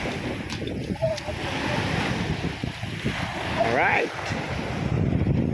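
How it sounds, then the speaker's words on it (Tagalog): Strong ocean waves surge and wash around a boat amid heavy wind buffeting on the microphone, a steady roar with brief voices in the background. "dahil sa alon, ang lakas ng alon"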